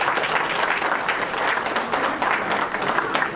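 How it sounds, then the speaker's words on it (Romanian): An audience at a village beauty pageant applauds steadily, a dense, even clatter of many hands clapping for several seconds. "Aplauze, vă rogăm."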